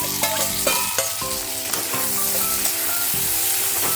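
Tomato, garlic and ginger go into a pan of browned onion and fry with a steady close sizzle, broken by scraping stirs and small clinks of a spatula against the pan.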